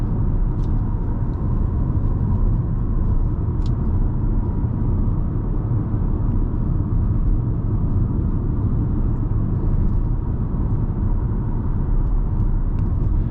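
Steady interior drone of a 2024 Jeep Compass Limited on the road, constant low engine and tire rumble with no talking.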